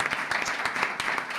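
Brief, steady applause from a studio audience at the close of a Spanish talk show segment on youth, a continuous wash of many hands clapping at moderate loudness with no pause.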